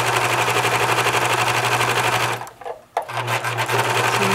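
A sewing machine stitches a small rolled hem, a loud, close, steady mechanical whir with rapid needle pulses that briefly slows and stops, then starts running again.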